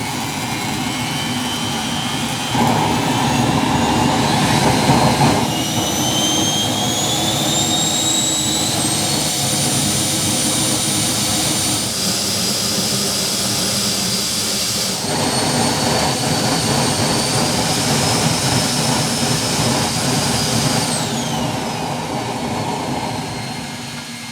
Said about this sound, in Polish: Miał być test komory spalania, a wyszedł test silnika.